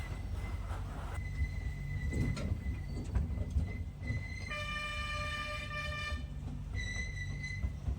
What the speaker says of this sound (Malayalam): ട്രെയിൻ ഇനി ഒരു തുരങ്കത്തിലേക്ക് പ്രവേശിക്കുകയാണ്